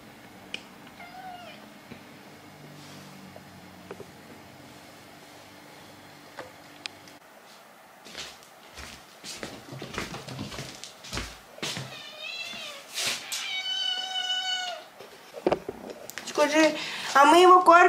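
Cats meowing and caterwauling at each other indoors, an adult female hostile toward a young kitten of about three months; yowls and meows build in the second half, getting louder and more agitated toward the end.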